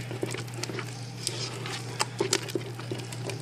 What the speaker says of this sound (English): I'm going to give it a really good stir